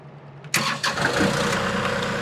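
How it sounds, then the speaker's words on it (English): A tractor engine cranks and catches at about half a second, then settles into a loud, steady idle close by, with a second brief crank surge just after. "So then what we're gonna do is start your tractor back up."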